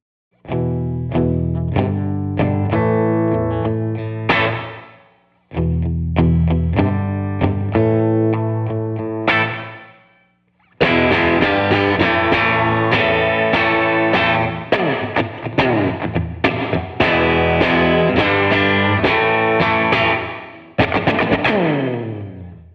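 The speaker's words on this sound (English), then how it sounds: "with the reverb in front of the slightly distorted amp, you can play softer" Electric guitar through a slightly distorted Fender '62 Princeton Chris Stapleton Edition amp with reverb, played in bursts of notes and chords that ring out and fade between phrases.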